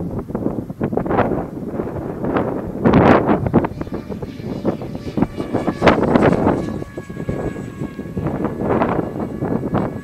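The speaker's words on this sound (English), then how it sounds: "That was a bit windy" Strong gusting wind buffets the microphone with low rumbling roars that rise and fall throughout.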